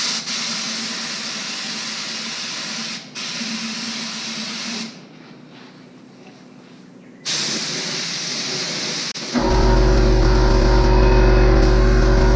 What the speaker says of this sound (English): I got some urethane in the gun. I'm just gonna test over here in the bucket